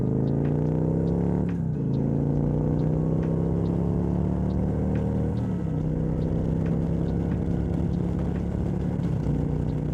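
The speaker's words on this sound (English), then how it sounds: "it gives satisfying shifts when blasting through the gears" A Victory Magnum motorcycle with 50,000 miles accelerating hard through the gears, its loud, close engine rising in pitch, dropping briefly at each shift, then climbing again over several gears without pause.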